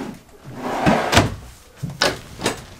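Several wooden drawer thuds in a 2024 Residence 401FLFT RV, a cluster around the middle then two sharper knocks near the end, fairly close with faint room noise between.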